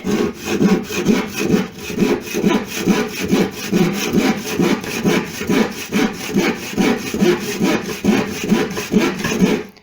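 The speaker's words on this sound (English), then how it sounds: "Not used to this wood cutting malarkey." A hand saw cuts through wood in steady, rhythmic back-and-forth strokes, close and fairly loud, with no talking.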